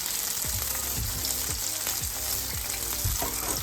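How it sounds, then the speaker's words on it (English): Fried onion is stirred into a pan of sizzling chicken pops, giving a steady loud fry hiss with regular rhythmic scraping strokes about every half second and no voices. "Now I'm gonna add this fried onion. Mix it all together."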